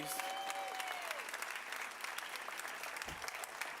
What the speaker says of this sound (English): Can we give another round of applause for Sam Marshall, please?